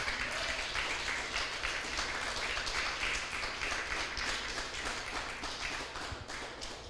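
Church congregation applauding during a Spanish-language service, a steady wash of clapping held at even loudness throughout without a clear break.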